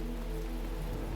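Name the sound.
rain falling in The Talos Principle video game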